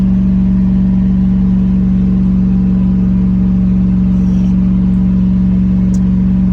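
A 1989 Range Rover Classic engine held at wide open throttle around 3,000 RPM with a modified exhaust, a loud, steady, deep drone that stays even and unbroken throughout.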